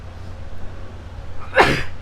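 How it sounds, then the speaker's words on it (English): A single quick sneeze bursts out close to the microphone after a moment of quiet room hum, sharp and brief. "Quick sneeze."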